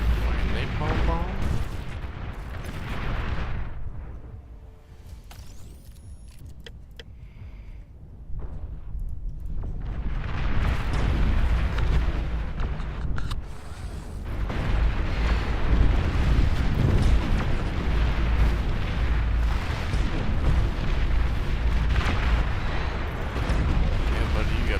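Napalm bomb explosions in the strategy game Beyond All Reason, heavy rumbling blasts and crackling fire rolling in waves, loud and sustained, with a brief quieter lull and voices talking over it.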